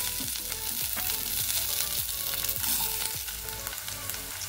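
Flat beans fry in oil in a wok over tempered dried chillies and nigella seeds, a close, busy sizzle broken by repeated scraping strokes of a spatula at a steady pace, with no one speaking.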